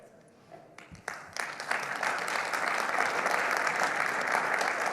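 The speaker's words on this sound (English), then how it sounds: "that's a well-deserved round of applause" Conference audience applauding after a tech talk, clapping starting sparse and quickly swelling into a full, steady round of applause.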